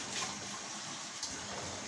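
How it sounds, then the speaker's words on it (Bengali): Water is poured into a cooking pot holding potatoes and okra, making a soft, brief, steady gushing splash that stays faint and close throughout. "একটু পানি দিচ্ছি সিদ্ধ হওয়ার জন্য"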